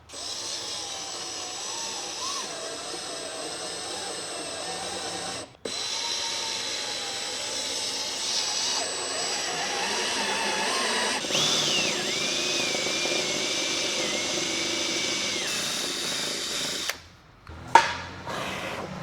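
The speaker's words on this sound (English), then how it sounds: "gonna be doing some drilling. Gonna get these sensor holes in there." A power drill whines steadily at close range, drilling sensor holes in a Porsche Cayman S, its pitch shifting as it bites into material, then stops with a few brief knocks at the end.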